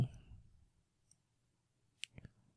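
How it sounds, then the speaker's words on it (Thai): Computer mouse clicks on a Windows 10 PC: a few sharp, close clicks in quick succession, the last pair tightly spaced, after a brief voice at the start and quiet gaps between. "ไปคลิกเมาส์ขวาบน Sound นะครับ"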